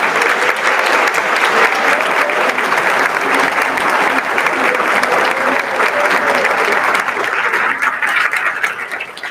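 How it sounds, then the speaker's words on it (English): Standing ovation for staff at an awards convocation, a large hall audience clapping loudly and continuously for several seconds, tapering off slightly at the end. "please stand and give them a round of applause."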